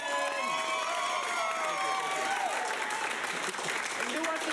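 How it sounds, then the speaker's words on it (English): A comedy-improv audience votes by clapping and cheering, a dense, steady wash of applause with scattered whoops and shouts filling the whole stretch at close, even loudness. "Clap loudest for the film you want to see go on"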